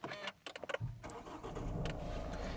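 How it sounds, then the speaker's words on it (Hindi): A Mahindra XUV300 W8 diesel SUV starts from its push button: a few clicks, then the engine catches close by and settles into a steady idle rumble, with no talk. "ये आती थी पुश स्टार्ट स्टॉप बटन के साथ में। तो एक बार स्टार्ट कर लेते हैं गाड़ी को।"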